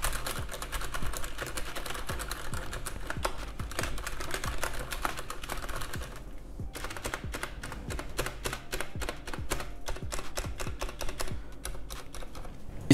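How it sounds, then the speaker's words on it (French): Steady, fast typing on a Cherry G80-3000N mechanical keyboard, with crisp, dense key clicks close up and no voices. "si on tape doucement, regardez"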